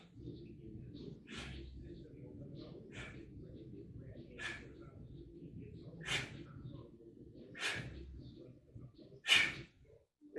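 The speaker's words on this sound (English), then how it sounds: "As you can hear, every time hips come forward, breathing out." Forceful rhythmic exhalations during alternating kettlebell swings in a full-length workout, sharp breathy bursts roughly every one to two seconds over a low background hum, the last one loudest.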